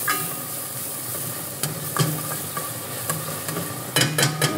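Potatoes and garlic sizzling in a pan, a steady moderate frying hiss broken by several sharp clatters of a utensil stirring against the pan.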